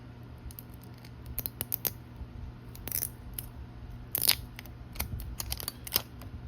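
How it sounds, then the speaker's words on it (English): Plastic wrap being peeled and crinkled off a Lord of the Rings Bitty Pops figure box, a run of sharp crackles and rustles in uneven bursts, close and fairly quiet, with no talking. "Let's just go and peel the plastic off."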